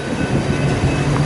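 BNSF freight train rolling past, 3-bay hopper cars and flat cars loaded with wheels, heading southbound: a steady, loud low rumble of railcars passing close by, with no voices.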